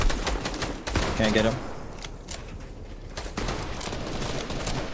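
Rapid automatic gunfire in Fortnite shooting down a tree, a dense rattling burst followed by steady continued shooting, with players talking over it.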